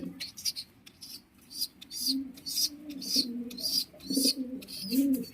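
Fancy pigeons, including a yellow Bombay pair, cooing in low repeated murmurs close by, mixed with scratchy higher chirps and rustling.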